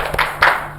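A classroom of fifth-grade pupils claps the 'tepuk fokus' rhythm, two short bursts of claps close together and fairly loud, with no talking over them.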